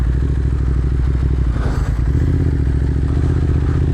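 A 2025 BMW S 1000 RR motorcycle, on its stock exhaust, rides along country roads with a loud, steady engine drone and rumbling wind and road noise close to the rider, with no talk.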